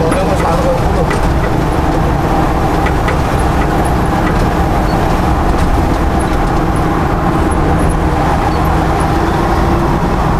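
Engine of a 1963 car fitted with a 2013 Mitsubishi Pajero Sport engine, running steadily with a dense low rumble throughout, close and loud, with people talking over it.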